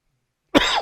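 A man gives a single close, sharp cough after a moment of silence, followed by a brief rough trailing breath.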